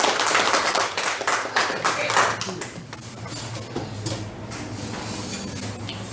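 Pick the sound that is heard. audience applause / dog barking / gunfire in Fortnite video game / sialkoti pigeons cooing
audience applause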